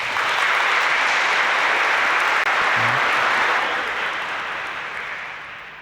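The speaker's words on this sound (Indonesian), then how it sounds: "Kalau Bapak Ibu mau tepuk tangan boleh untuk mereka." Congregation at a Catholic Sunday mass applauding newly baptised members, a thick continuous wash of clapping in a large hall that holds steady and slowly fades toward the end.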